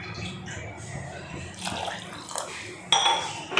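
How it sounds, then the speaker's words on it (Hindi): Water is poured into a cooking pot of dal with bottle gourd sitting on a gas stove, a soft splashing trickle that grows into a louder, fuller gush near the end, with light clinks of the pot. "और इधर मैं पानी डाल देती हूँ।"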